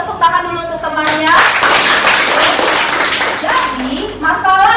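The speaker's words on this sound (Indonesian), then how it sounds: "Tepuk tangan dulu untuk temannya." A classroom of children claps for a classmate in a burst of dense applause that starts after a short spoken prompt and fades as a teacher's voice returns.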